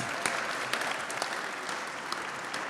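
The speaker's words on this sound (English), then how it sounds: "how about another big round of applause for our dancers there?" Steady audience applause for a troupe of Irish dancers at a St. Patrick's Day celebration, a dense wash of clapping holding at an even level throughout with a few sharper claps standing out.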